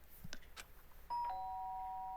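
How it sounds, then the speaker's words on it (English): Doorbell in the video game Danganronpa: after some faint soft knocks and rustles, a clear electronic two-tone ding-dong chime rings out and sustains steadily, fairly quiet overall. "The sound of the doorbell forced its way into my room."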